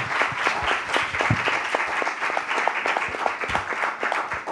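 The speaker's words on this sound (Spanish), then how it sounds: "Quisiera un aplauso para ellos por esta reflexión" A crowd applauds steadily, dense clapping from many hands filling the room without a break.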